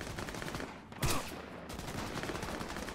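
A single loud burst of gunfire in Cyberpunk 2077 on PS5 cuts sharply through steady game ambience for about half a second.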